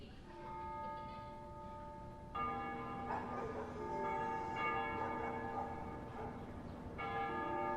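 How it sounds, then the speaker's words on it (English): Church bells ring at dusk in the video game Ace Combat Zero, marking the capital's liberation. Resonant tolling strikes come twice and leave long, ringing tails that fade quietly. "They ring the bells here at dusk to honor the liberation of the capital."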